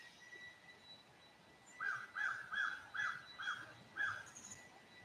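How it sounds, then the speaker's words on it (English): A crow caws repeatedly outdoors, about six evenly spaced harsh calls at moderate distance, with faint birdsong in the background. "I hope you all can hear the bird speaking right back."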